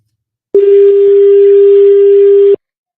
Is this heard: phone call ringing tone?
yes